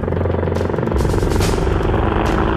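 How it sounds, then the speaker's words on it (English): A pair of US Apache military helicopters flies overhead. Their loud, close rotor thump and engine roar are continuous and dense, with a steady pulsing beat. "a pair of US Apache helicopters has also come to take a look"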